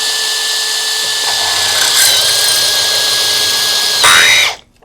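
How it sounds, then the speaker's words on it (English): A power drill whines steadily and loudly as it bores out tapped holes in an engine, its pitch rising as the bit bites in before it stops abruptly. "Found you got to get the drill going before you start going in."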